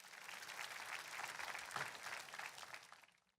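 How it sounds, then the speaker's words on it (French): A church congregation applauds, a lively wash of many hands clapping at moderate volume that holds steady for about three seconds before tapering off quickly. "Applaudissons merveilleusement pour Jésus-Christ."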